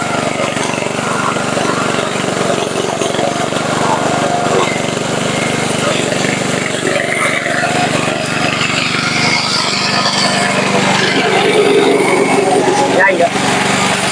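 A remote-controlled, self-propelled flail lawn mower runs loudly and steadily throughout, its engine roaring with grinding, cutting noise as it chews through vegetation, while people talk over it.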